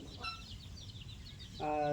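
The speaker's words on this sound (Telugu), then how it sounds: "మొన్ననే పొదిగిన కోళ్ళు" Recently hatched fighting-rooster chicks peeping in a rapid run of thin, high chirps, fairly faint, with a low murmur underneath and a brief louder tonal call at the end.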